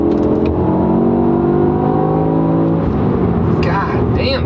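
A BMW E60 M5 sedan with a seven-speed SMG transmission accelerates hard at full throttle, its engine note climbing steadily in pitch and volume up close, ending in a brief shift.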